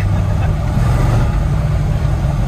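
A 1940 Mercury Club Coupe street rod, a 1960s-era build fitted with two blast pack mufflers, rumbles loud and close with a deep steady engine drone, with no talking over it.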